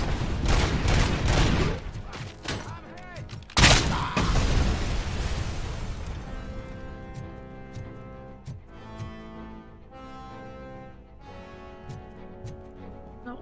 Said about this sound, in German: Die werfen die ganze Zeit Granaten.